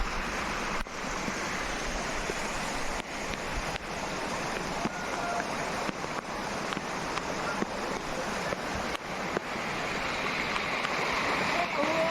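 Rainwater streaming down the stone steps of Mount Girnar during rain, a steady rushing wash of flowing water with occasional sharp knocks and bumps nearby.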